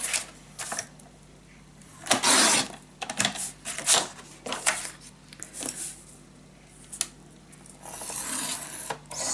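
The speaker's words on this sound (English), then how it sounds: "So I'm just gonna eyeball that half inch, and then we're just gonna cut it out." Scissors snip paper for a lace mini scrapbook album in irregular bursts of crisp cutting and rustling, close up, with quiet gaps between the cuts.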